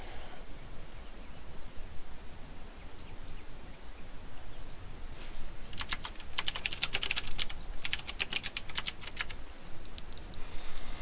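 Rapid clicky typing on a Razer BlackWidow computer keyboard, steady keystrokes near and fairly loud, with denser bursts of sharp clacks in the second half over a constant low background hum.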